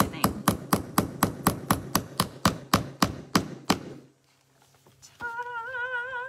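Hammer striking a handmade wooden farmhouse-style laundry room sign, about fourteen sharp, evenly spaced knocks in quick rhythm, close and loud, then a brief quiet gap before a voice begins speaking.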